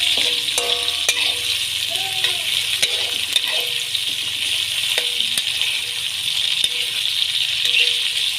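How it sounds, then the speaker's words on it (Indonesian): Tomato and chili sizzle steadily in a pan for a spicy-sweet kikil and tofu stir-fry, with a spatula scraping and clinking as the mix is stirred, close and continuous. "Lalu kita aduk-aduk hingga merata."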